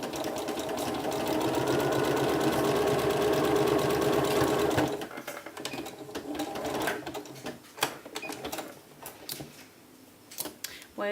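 A sewing machine stitches a neck binding on a batwing top, running in a fast steady whir for about five seconds, then stopping as fabric rustles and someone talks.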